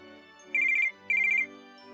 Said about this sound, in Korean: 전화 온다.